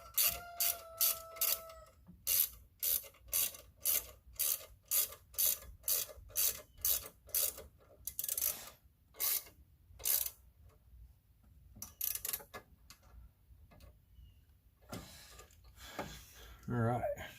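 Bolts on the coil packs of a 1999 Ford F-150 4.6L are run down with a ratchet, sounding as quick, close clicking bursts in uneven runs, with short pauses and a brief scrape toward the end.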